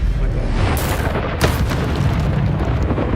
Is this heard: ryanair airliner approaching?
no